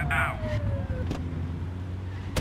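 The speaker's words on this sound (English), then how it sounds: "Get on their tail and flip the siren." A police car siren wails in The Precinct video game, sweeping over a steady engine and road rumble, loud and close, with the tone falling away and cutting off partway through.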